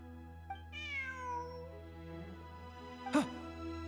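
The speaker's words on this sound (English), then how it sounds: "Look, a cat." A cat in the video game Genshin Impact gives a short meow, then a second, sharper meow near the end, both over a quiet, humming game backdrop.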